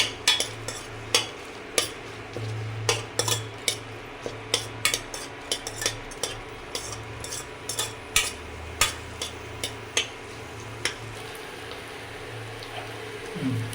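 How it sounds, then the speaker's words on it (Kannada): Cinnamon pieces and cardamom roasting in a dry pan, stirred with a utensil that gives repeated sharp scrapes and clacks at an uneven rhythm over a low, steady hiss. "ಒಂದಿಷ್ಟು ಚಕ್ಕೆ. ಇವನ್ನ ಚೆನ್ನಾಗಿ ರೋಸ್ಟ್ ಮಾಡ್ಕೊಳ್ಳೋಣ."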